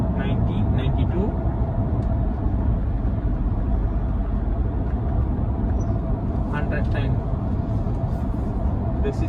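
A 2022 Ford Ranger Wildtrak accelerating under cruise control, heard from the cabin as a steady, loud broadband engine and road rumble that holds constant throughout, with faint ticks near the end.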